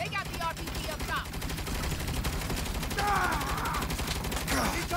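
Dense automatic gunfire rattles on continuously in the shooter game Saints Row, a steady barrage of rapid shots with voices briefly cutting through the battle noise.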